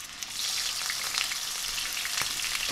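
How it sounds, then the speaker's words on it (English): Pieces of rohu fish, rubbed with salt and turmeric, sizzle steadily as they shallow fry in hot oil, a continuous close crackling hiss with small pops and no voices. "Add the fish pieces into the oil, just sizzle them on both sides for a bit"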